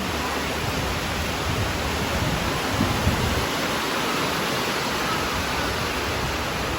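Heavy rain pours down steadily in a dense, loud hiss that fills the whole stretch without pause, with no voices over it.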